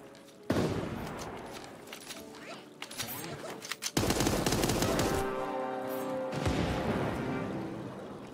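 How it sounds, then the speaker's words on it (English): Hunting rifle and AK gunfire in the video game Super Animal Royale during a 1v1 tournament duel, loud sharp shots and rapid bursts overlapping almost continuously, with a caster talking over the action. "Hunting rifle AK versus hunting rifle AK."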